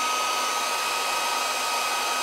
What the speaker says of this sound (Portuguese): O secador de cabelo, quando esse aqui atingir 100 graus de aquecimento, ele vai começar a ficar maleável.